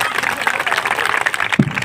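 Audience applause at a school haldi-kunku function, a steady wash of clapping from a crowd throughout, moderately loud, with a brief low thump near the end.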